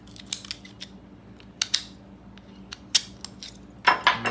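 Flathead screwdriver prying an old clutch plate off a Stihl FS 110R weed eater, a series of sharp metallic clicks and scrapes in scattered bursts, close and fairly faint, ending in a louder clatter.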